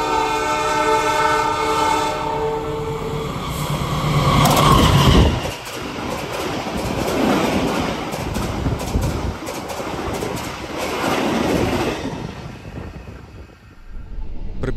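The Kuto Jaya Selatan passenger train stops at Gandrung station, heard as a loud, close mix of rolling wheels, squealing brakes and a sustained horn that eases into quieter rumbling, then fades away.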